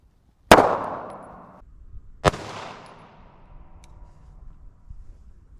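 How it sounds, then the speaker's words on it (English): A 9mm Staccato XC pistol firing full metal jacket rounds into flour bags: two sharp, loud reports about two seconds apart, the first ringing out longer, then a quiet tail with no talk. "We just shot the flour bags with a Staccato XC, a 9mm full metal jacket."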